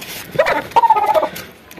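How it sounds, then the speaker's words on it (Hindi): Rooster calling in a Pakistani village, a single loud close crow with a rising start and a sustained wavering note, alone without talk. "जबरदस्त मुर्गा है ये देखें"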